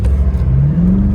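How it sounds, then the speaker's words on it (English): A 2013 BMW M6 convertible accelerates hard with its engine revving and rising in pitch, loud and close, heard alone in a brief burst. "we are going to go on our acceleration run"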